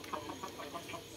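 Chickens in a backyard coop in the province cluck softly in a quick run of short, faint calls over quiet background noise.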